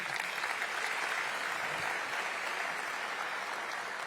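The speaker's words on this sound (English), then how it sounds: "Let's give them all a round of applause." Audience applause following introductions at an Erie Canal Harbor event: an even, moderately quiet wash of clapping from a seated crowd that lasts a few seconds.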